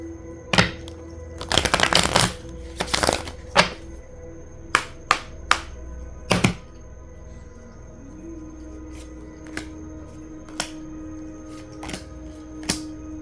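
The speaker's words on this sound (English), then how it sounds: "bear with me while I shuffle" Tarot cards shuffled by hand in a quiet room, sending out sharp riffling bursts and loose clusters of snapping slaps near the start, then scattered single taps and flicks with pauses between, close and fairly loud, with no talking.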